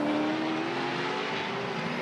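Supercars race cars circle the Townsville street circuit, a steady distant engine drone with a faint high whine running throughout, no talk over it.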